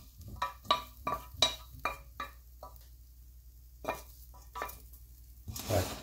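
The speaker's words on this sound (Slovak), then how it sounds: "A 2 minútky necháme takto orestovať." Vegetables sautéing in a pot while a utensil stirs them, giving a series of sharp scraping and clinking strokes over a low sizzle, with a louder burst near the end.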